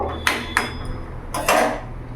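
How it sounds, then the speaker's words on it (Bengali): A metal lid set onto a cooking pot of boiling vegetables: two quick sharp clinks, then a heavier clatter as it settles, close and clear in a quiet kitchen. "ঢাকাটা দিয়ে দেবো।"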